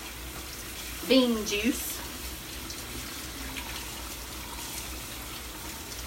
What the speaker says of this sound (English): Put some water in there to rinse off that